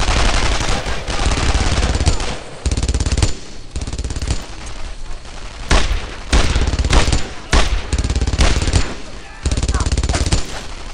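Rapid bursts of automatic gunfire and rifle shots from the World War II shooter Brothers in Arms: Earned in Blood, loud and dense, with repeated volleys and brief pauses across the whole stretch.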